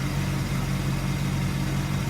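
The original Buick 350 V8 with a four-barrel carburetor in a 1971 Skylark Custom coupe idles close by, a steady, low, even rumble that runs unbroken and alone for the whole stretch.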